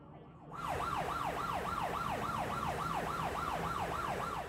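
In the video game Mafia 3, a police car siren starts after a brief pause and wails in fast, regular rising-and-falling sweeps, loud and steady through to the end.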